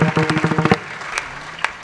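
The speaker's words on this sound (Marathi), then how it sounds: "जोऱ्यात जोऱ्यात टाळी वाजवा" An audience claps loudly in quick rhythmic bursts at a kirtan gathering, with close, sharp claps in the first part that then drop off to a few scattered claps.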